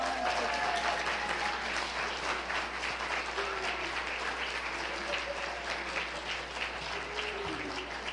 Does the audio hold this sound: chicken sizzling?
no